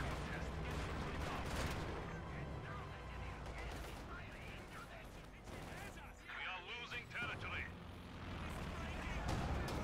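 Anti-tank guns firing on a KV-8 tank in a strategy video game, heard as a dense, continuous wash of battle gunfire and explosions with voices talking underneath.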